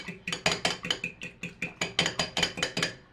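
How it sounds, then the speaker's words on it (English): Eggs being beaten briskly in a bowl while cooking soup dumplings, a steady run of rapid, sharp clinking strokes of about four per second, close and fairly loud, with no talking. "Gotta fluff up my eggs."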